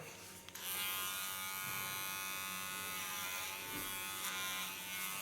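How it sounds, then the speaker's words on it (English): A T.K.S electric hair clipper buzzes steadily and close up while cutting thick hair at the nape over a large flat comb, with slight shifts in tone as the blade works. "Take a large flat comb, take my T.K.S clipper."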